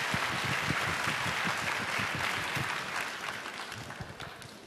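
Sustained audience applause fills a Star Awards 2023 ceremony hall, a dense steady wash of clapping from a large crowd that stays loud throughout and eases slightly toward the end.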